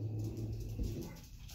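A dog barks and whimpers indoors, a pet that barks when its owner comes home; the sound is close and moderately loud, with low, steady vocal energy throughout and no talk over it.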